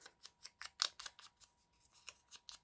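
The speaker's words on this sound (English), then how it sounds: "I just used my paper pinking shears here to cut around them" Pinking shears snip through paper in a quick, even series of about a dozen crisp cuts, close and isolated.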